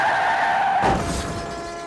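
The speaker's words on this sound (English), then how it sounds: "the car suddenly rear-ends the vehicle in front of it" A car rear-ends the vehicle ahead, a skidding screech giving way to a crunching impact and scattering glass, loud and close, with no speech.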